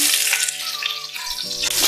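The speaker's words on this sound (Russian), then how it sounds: "Все мы жарим на довольно сильном огне" Hot oil sizzles steadily over fairly high heat as garlic, carrot, onion and pepper fry for a beaver stew, with faint stirring and clinking over a continuous crackling hiss.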